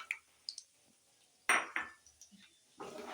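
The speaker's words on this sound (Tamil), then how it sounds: "இப்போ மசாலா பூரியில் கலக்கிறதுக்கு இந்த நிலக்கடலையும் வறுத்து எடுத்துக்கிறேன்" Peanuts being roasted in a pan for masala puri: sparse light clinks and taps, then two bursts of rattling as the nuts are stirred and tossed against the metal, fairly quiet and close with no talking.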